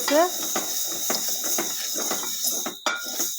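Beef curry being stirred in a pot, with repeated scraping and clinking of the spoon against the metal in an uneven rhythm close by, a voice briefly heard at the start.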